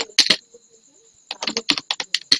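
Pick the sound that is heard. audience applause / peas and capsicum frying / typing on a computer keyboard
typing on a computer keyboard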